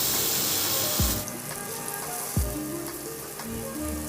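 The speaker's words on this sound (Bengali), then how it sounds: "কড়াইটাকে একটু গরম করে নিয়ে তাতে একটু তেল দিয়ে এই ব্যাটারটা 1 হাতা দিয়ে দাও" Batter ladled into hot oil in a wok sizzles with a broad, steady hiss, broken by two short low knocks from utensils against the pan.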